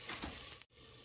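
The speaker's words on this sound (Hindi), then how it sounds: "और अब ये पत्ते इस पर रख के हम शैलो फ्राई करेंगे" Taro leaves sizzle steadily as they shallow fry in a little oil in a pan, a close, continuous hiss that cuts out briefly before resuming.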